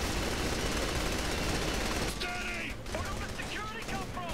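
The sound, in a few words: gunfire in the video game Saints Row The Third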